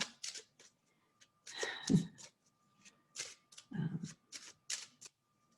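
Tarot cards are shuffled and tapped close by in quick, crisp bursts of riffling and flicking, separated by short pauses in a quiet room.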